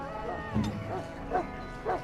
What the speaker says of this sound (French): Le chien est là.